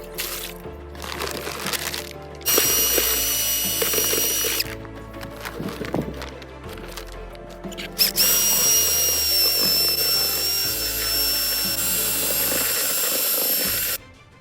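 A power drill with a mixing paddle churns Laticrete Permacolor black grout in a bucket for zellige tile, loud whirring bursts that start and stop, with a high whine during the long final run and scraping knocks between.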